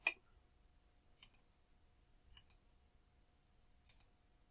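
Mouse clicks while working in 3D modelling software, quiet paired clicks repeating at intervals over near silence.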